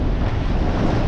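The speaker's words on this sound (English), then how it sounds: "The wind is kicking up at the moment." Wind gusting over open sea aboard a sailboat heading from Biscayne Bay to the Bahamas at sunset, a steady loud rushing roar with surf wash and microphone buffeting throughout, no voices.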